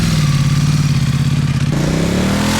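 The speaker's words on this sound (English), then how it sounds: "once you crank the throttle on this bike, you won't miss it" Aprilia Tuono V4 1100 Factory motorcycle engine roaring loud and close in a sustained high rev that holds and then rises in pitch, a continuous throaty drone with a rapid pulsing beat and no voices.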